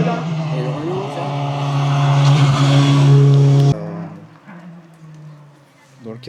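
Dallara 308 race car at a hill climb, engine loud and close with a steady high-revving roar, then the note drops sharply as it moves away and a voice talks over the fading sound.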